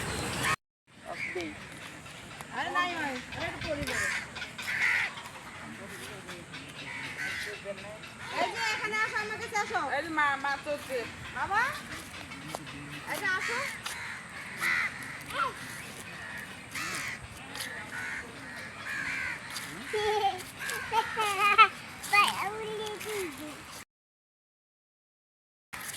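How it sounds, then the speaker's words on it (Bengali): Harsh crow-like caws repeat through most of the clip, loud and fairly close, with a child's and adult's voices talking over them; it ends in silence. "ওই যে পাখি ডাকতেছে"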